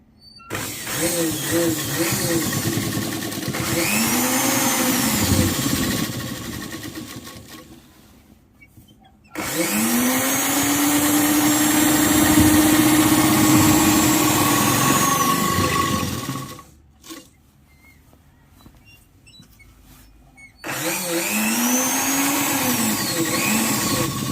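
Sewing machine stitching a six-panel petticoat, its motor whirring steadily in long runs of several seconds each, broken by short pauses, loud and close with no talk.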